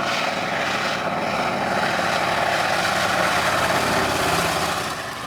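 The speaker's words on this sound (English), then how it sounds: "Seaplane, an aircraft capable of taking off and landing on water." A propeller-driven seaplane drones loudly and steadily throughout, a continuous engine roar that eases slightly at the end, with no voices.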